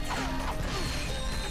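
Crates being smashed in the video game Ratchet & Clank: Up Your Arsenal, a dense burst of breaking and clattering impacts over steady game background, loud and close, with no talking.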